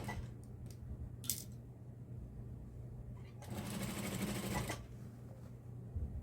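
Sewing machine stitching a flower sun bonnet, a close, quiet rapid mechanical chatter in a short burst of a second or so, set among faint handling clicks and light rustling.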